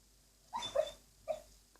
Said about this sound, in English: If you hear some weird noise in the background, it's my dog. He's dreaming.